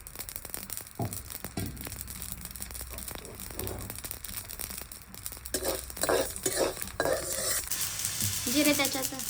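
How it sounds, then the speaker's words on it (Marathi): Cumin seeds roast in a pan for Solapuri black masala, with stirring scrapes, dry crackle and clinks of the pot, growing louder and busier toward the end. "जिरे त्याच्यात जिरे बी भाजायचं."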